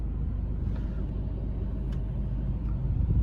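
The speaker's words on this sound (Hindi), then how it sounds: "तो कार चलने लग गई" A car rolling down a slope after its brake is released, with hill-hold assist not engaging on the descent: a steady, fairly quiet low rumble that continues evenly throughout with no distinct events.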